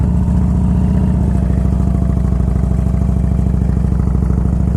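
A Harley-Davidson Ultra Classic motorcycle engine runs steadily and loud up close, its low, lumpy V-twin beat pulsing evenly throughout with a slight clattery edge and no talk.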